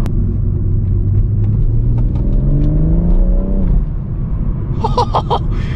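A BMW M140i accelerating hard on an open road, its engine note climbing steadily in pitch for a few seconds before easing off over constant road rumble, with a brief faint voice near the end.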